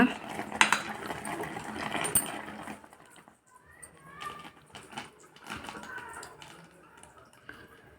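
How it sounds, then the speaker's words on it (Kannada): Ghee-fried dry fruits are tipped into carrot halva and stirred in a pan, giving soft metallic clinks and light scraping at low volume, with quieter stretches between strokes. "ಈಗ ನಾವು ಡ್ರೈ ಫ್ರೂಟ್ಸ್ ಆವಾಗಲೇ ತುಪ್ಪದಲ್ಲಿ ಹುರ್ಕೊಂಡಿದ್ವಲ್ಲ, ಅದನ್ನೆಲ್ಲ ಸೇರಿಸೋಣ."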